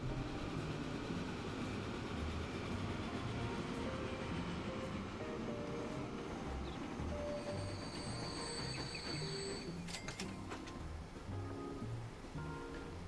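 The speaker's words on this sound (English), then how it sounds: "first arrival of our quarry train into our construction materials plant" A quarry train in the Transport Fever 2 game rumbles steadily into a construction materials plant, with continuous wheel and rail noise and a few brief high squeals partway through.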